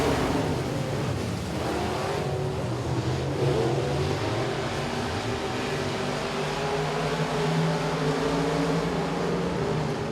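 Race cars at Boothill Speedway roar away together at the green flag of a heat race, a loud, continuous dirt-track engine drone that holds steady and close for the whole stretch, with no voices heard.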